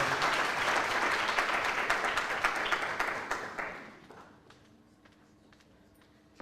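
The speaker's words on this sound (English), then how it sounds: "May you please give a round of applause for Ms. Neil." Audience at a university student entrepreneurship programme launch gives a full round of applause that stays dense and loud for about three seconds, then thins out and fades into a quiet hall.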